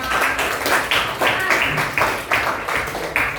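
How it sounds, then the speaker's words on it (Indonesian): Students in a junior high school classroom clap together, a rhythmic run of roughly two claps per second, close and even, with the rhythm slightly uneven toward the end. "Tepuk tangan untuk kalian semua"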